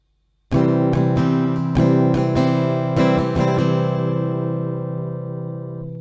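An acoustic guitar strums chords in a rhythmic pattern of several down and up strokes, then the last chord rings out and fades, with no voices.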